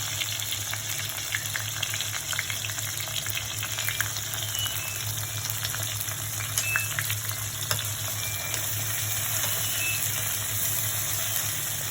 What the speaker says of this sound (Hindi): अब मुझे 5 मिनट तक अच्छी तरह से इसे फ्राई करनी है